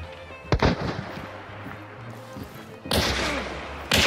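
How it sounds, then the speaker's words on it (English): Gunshots in the video game Hunt, a few sharp loud cracks with one early blast, another around the three-second mark and a final one at the end, with a voice speaking between them. "Took a shot at me."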